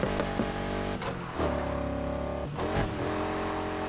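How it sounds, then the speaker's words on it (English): A game car in Need for Speed Heat drifts through sharp turns with the handbrake, its engine droning and revving up and down in repeated surges, loud and continuous with no talk. "I use a handbrake, and then after that, I drift."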